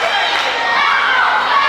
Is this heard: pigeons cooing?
no